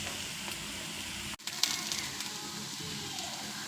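Raw plantain slices sizzle steadily in oil on a flat tawa, a continuous close crackle with a brief clatter partway through.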